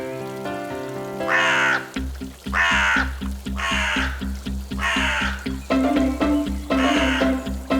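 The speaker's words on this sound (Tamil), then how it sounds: "இந்த காகங்கள் இங்க இருந்து பறந்து போனா நல்லா இருக்கும்" Cartoon crows in a garden caw harshly about five times in a steady rhythm, loud and close, over a bouncy musical backing.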